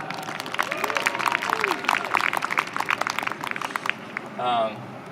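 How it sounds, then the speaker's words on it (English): A round of applause breaks out at a farewell speech for John, a crowd clapping in quick scattered bursts at moderate distance, with voices and cheers mixed in and someone talking near the end. "Round of applause for that."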